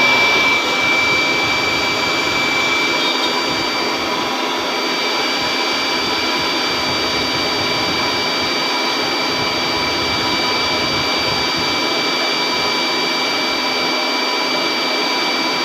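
Handheld drill machine running steadily on a battery-less 3 kVA pure sine wave solar inverter, a continuous loud whining motor hum held without pause throughout, with no talking.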